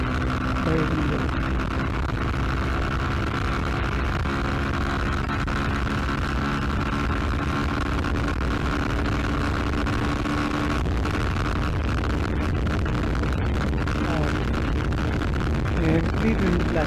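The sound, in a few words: Yamaha R15M V4 motorcycle at top speed with heavy wind blast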